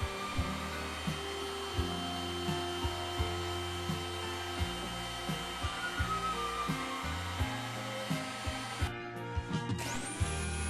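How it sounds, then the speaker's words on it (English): A heat gun blows a steady, droning whoosh with a low motor hum while paper is lifted off a wooden board for a clock, with faint regular ticks and a brief cut-off near the end. "A heat gun helps lift the paper."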